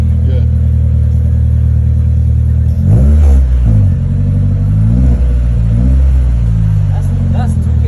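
A Honda S2000 with a loud aftermarket exhaust and test pipe idles with a deep, steady drone, then is blipped through several rising and falling revs that swell close and loud before settling back to idle.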